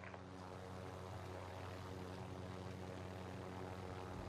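A drone's propellers drone steadily in Warzone, a low, even mechanical hum with strong steady harmonics that stays fairly faint and constant throughout, with no talk over it.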